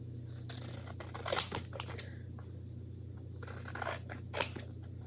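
Scissors snip through paper pieces for a chalk-stenciled farmhouse tray craft, with a few crisp close cuts in two short bursts separated by quiet, over a low steady hum.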